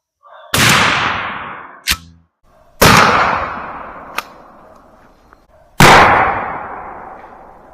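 A 12 gauge shotgun fires Rio #00 buckshot outdoors: three loud, sharp blasts with decaying echoes, spaced a few seconds apart. Short metallic clacks are heard between the shots.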